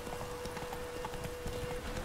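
Horse hooves clip-clopping at a steady pace in The Witcher 3 video game, a continuous rhythmic patter of close, moderately loud hoofbeats with no talking.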